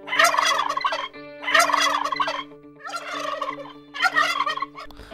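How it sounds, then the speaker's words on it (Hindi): Turkeys call in loud, close bursts of rapid warbling gobbles, four repeated bouts separated by short pauses over a faint steady hum, with no talking. "टर्की जानवर अपने बच्चों की तरफ सिर्फ तब ध्यान देती है जब वो चीप"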